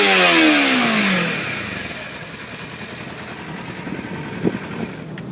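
A Kawasaki Ninja 300 engine revs high and loud, its pitch falling as the throttle is released, then settles into a lower idle with a few blips.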